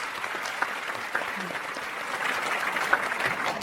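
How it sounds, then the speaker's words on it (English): A studio audience at a university quiz show claps for the competing teams in a moderate, even burst of applause that swells slightly toward the end, with no speech over it. "Kindly a round of applause for each of the teams."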